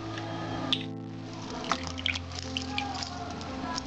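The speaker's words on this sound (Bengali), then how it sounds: "এবার দেবো, জল" Water poured onto salted raw rice in a bowl makes a close, soft wet trickle and squelch, with a few small drips and splashes over a low steady hum.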